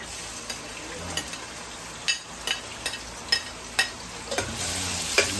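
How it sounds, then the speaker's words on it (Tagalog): Ginger frying in heated oil in a pan, a steady sizzle broken by sharp clicks and scrapes as it is stirred, close up with no talking. "Ayan, pinainit na po natin yung mantika. Unahin natin yung luya."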